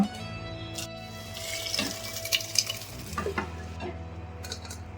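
Boiled sprouted legumes for a summer sprouts sambar tossed into a sizzling tempering, with a steady close hiss and several clattering stirs and scrapes. A low hum changes pitch partway through, and nobody speaks.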